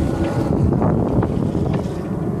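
Wind rushing steadily aboard a sailboat out on open water, a loud continuous broadband roar with buffeting against the microphone and no speech.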